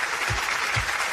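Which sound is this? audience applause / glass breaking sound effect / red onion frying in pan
audience applause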